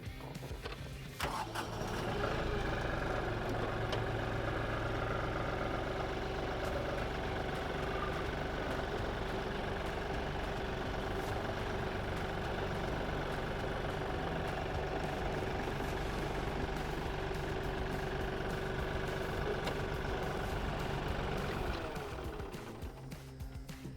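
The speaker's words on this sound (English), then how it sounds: "we'll be able to back this tractor right out of the loader." Tractor engine idles steadily near a detached front loader, a constant low rumble with a faint mechanical whine that holds unchanged for over twenty seconds before tapering at the end; no one speaks.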